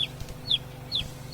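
A chicken at a house clucks in short, repeated calls, moderately close, with no talking over it.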